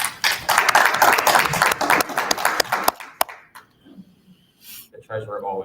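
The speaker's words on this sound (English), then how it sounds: "The treasurer always needs a round of applause." A room of attendees at a Libertarian Party annual business meeting applauds a newly nominated deputy treasurer, with loud dense clapping for about three seconds that ends in a final clap, followed by quiet murmurs and a bit of talk.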